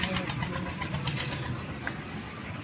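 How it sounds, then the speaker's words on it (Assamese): The engine of an approaching river boat gives a steady, close droning rumble throughout, with people talking over it. "এই কেইখন নাও আহি আছে"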